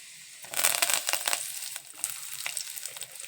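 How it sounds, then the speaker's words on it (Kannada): Peanuts and curry leaves dropped into hot oil for sabudana upma, a close crackling sizzle with bursts of spattering that swell then settle into steady frying. "ಸ್ವಲ್ಪ ಶೇಂಗಾಕಾಳು, ಈಗ ಸ್ವಲ್ಪ ಕರಿಬೇವು ಹಾಕ್ಕೊತೀನಿ ರೀ"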